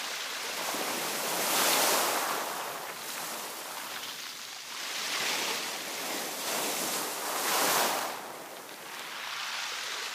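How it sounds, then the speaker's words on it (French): Strong wind roars over crashing surf on the Brittany coast in Finistère, rising and falling in slow gusts, loud and close with no voices. "le vent souffle très fort"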